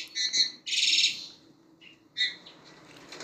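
A pair of pet crested mynas, just finished molting, give bright, whistled calls in short bursts, two loud phrases early then a quieter call after a pause, close and clear with no talking.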